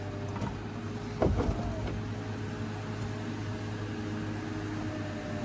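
An Aston Martin Vantage S Roadster's convertible roof unfolds under a steady electric motor whine, with a brief mechanical clunk early on, slow and continuous at close range.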